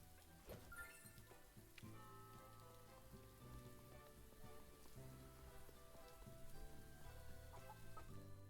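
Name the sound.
chickens clucking in a stable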